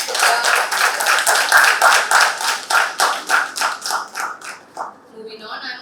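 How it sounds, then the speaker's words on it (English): An audience claps for the winning team at a university debate event, crisp rhythmic hand claps in a regular beat that thin out and stop near the end, with a voice starting to talk afterward. "Please give them a big round of applause."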